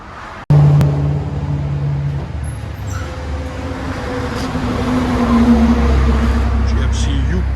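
2008 GMC Yukon XL with a 5.3L V8 and Flowmaster Super 10 exhaust, a deep, close engine rumble that starts after a sharp click and swells toward the end, with people talking over it.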